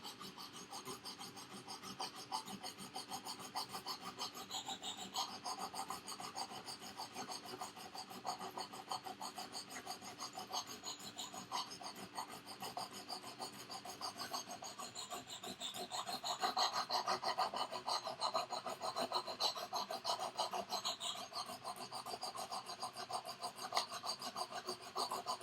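A hand file rasps across a tool being sharpened in quick, repeated back-and-forth strokes, steady and close, growing a little louder partway through, with breathing faintly audible between strokes.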